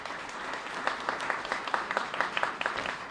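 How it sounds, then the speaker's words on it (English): A big round of applause from an audience at an affordable housing event in Woonsocket, steady dense clapping with a few sharper claps standing out, moderately loud and continuous throughout. "So they deserve another big round of applause."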